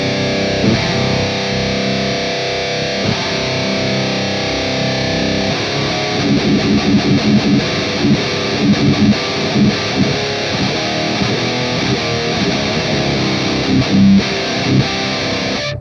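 Heavily distorted electric guitar played through the Aurora DSP Laboga Mr Hector amp plugin, a dense saturated tone with chugging rhythmic riffs, loud and continuous without any talking.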